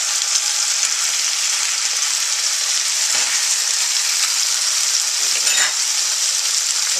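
Inch-thick pork chops browning in a pan, a loud, continuous bright sizzle close by, with a couple of brief stirring sounds and no talking.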